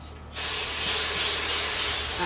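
A spray bottle mists water onto paper painted over black paint. After a brief quiet moment a sustained hiss of spray comes in and holds steadily at close range, with no talking.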